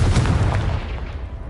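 A Confringo fire spell blasts in Hogwarts Legacy, a loud, close boom that opens at full force and then rolls off into a fading rumble.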